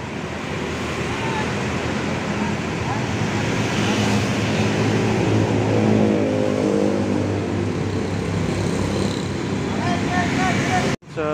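A large bus engine rumbles steadily and swells as the bus pulls away from Purabaya (Bungurasih) bus terminal at night, with background chatter and traffic noise, ending in an abrupt cut.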